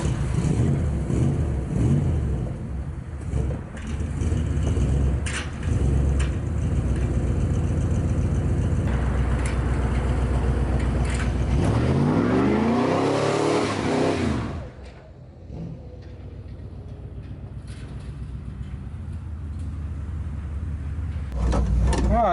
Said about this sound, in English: she does a pretty good burnout.